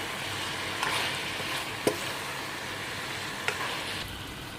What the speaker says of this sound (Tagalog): pwede na po natin i-add ang ating mushroom. So, haluin lang po natin.